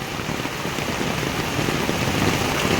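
Heavy rain pours steadily, a dense, close, continuous hiss of drops hitting surfaces with no pauses.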